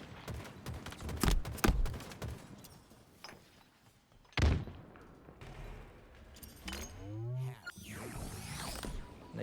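Video game gunfire from a multiplayer shooter: scattered bursts of shots and sharp impacts, with a loud crack near the middle and a whooshing grenade-like sweep toward the end, at moderate level with no speech.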